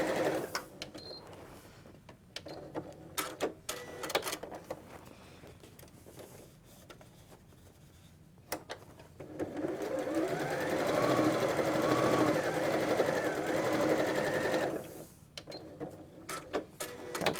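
A sewing machine stitches quilt blocks in a bursty run, with short clicks and brief stitching at the start, then a steady mechanical whir of continuous sewing for several seconds, before stopping into handling clicks.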